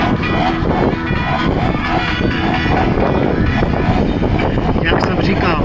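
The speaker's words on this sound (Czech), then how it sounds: "Vidíte, že letadlo v tom větru téměř stojí na místě a jenom se přetáčí" An airplane at an air show flies very low, about five to six metres up, almost hanging in place in strong wind; its loud, steady engine roar fills the clip alongside wind buffeting, with a voice talking over it.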